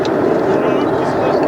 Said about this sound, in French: Alors qu'a décollé l'A340, le seul quadriréacteur long et très long courrier produit par Airbus Industrie.